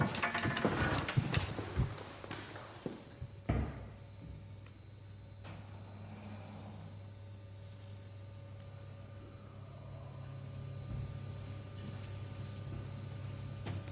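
An old door inside Tamworth Castle being opened and shut: a few faint clattering latch noises, then one sharp knock-like thud, followed by a low steady hum and quiet room tone.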